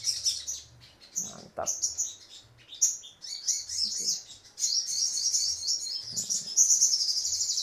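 Sogon bird chirps and tweets in a series of short bright calls with gaps, fairly close, while someone speaks briefly under the song.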